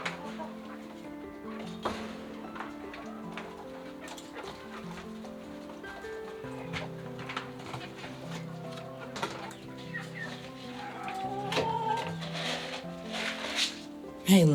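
Backyard urban homestead chickens clucking and chattering continuously while feed is poured for them, a busy flock sound with overlapping calls, close and moderately loud.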